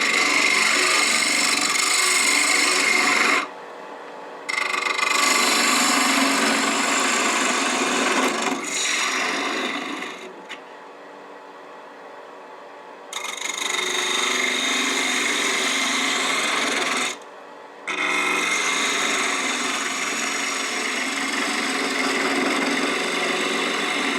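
A turning tool flattens a spinning wooden box blank on a wood lathe, making a harsh, close scraping rasp in several sustained bursts broken by short pauses.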